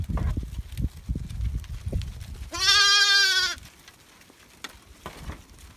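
A Dorper sheep on a small farm gives one loud, drawn-out bleat close by, lasting about a second, between softer rustling, shuffling and faint handling noises.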